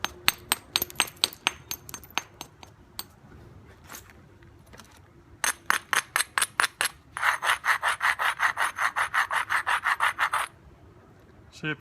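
Coastal plains chert cortex being abraded with a stone: quick rasping scrapes in rhythmic strokes, loud and close, with a long fast run of even rubs near the end.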